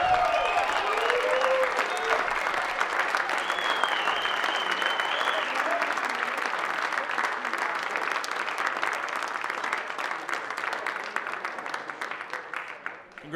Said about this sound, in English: How about one more big round of applause for our champions up here?